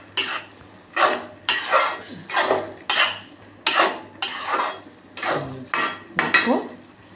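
A spoon scrapes and knocks around a cooking pot while dal is stirred with paste for snake gourd sambar, giving about nine rhythmic, close scraping strokes with no voices.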